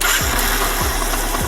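TVS Saluto 125 motorcycle engine running steadily after being switched back on, a close, continuous low mechanical hum with a few soft periodic thumps.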